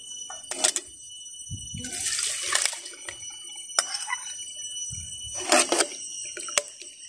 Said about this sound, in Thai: นี่นะคะตักน้ำมาใส่ละลายเคย